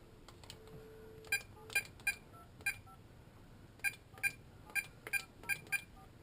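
Telephone keypad tones sound as a number is dialed to call an iPhone sitting in a LifeProof case, about a dozen short sharp beeps in irregular bursts over a quiet background, fairly faint.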